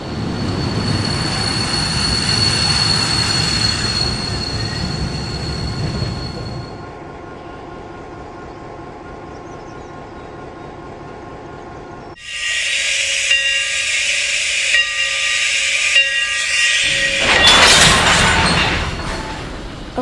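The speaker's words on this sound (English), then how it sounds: "put Matt on a siding, then couple to the train" An HO-scale model train rumbles along the rails with steady low rolling noise, then a hissing release and high metallic wheel squeal ring out loudly near the end.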